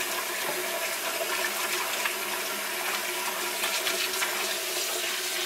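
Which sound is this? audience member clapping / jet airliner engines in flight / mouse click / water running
water running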